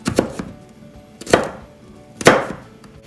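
A knife chopping mushrooms on a cutting board, three separate close, sharp cuts spaced about a second apart, with quiet between them.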